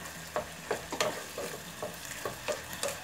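Soup for a grilled pork neck nam tok dish bubbling in a pan, a steady soft simmer broken by regular light pops and bursts of bubbles, near and quiet with nobody talking.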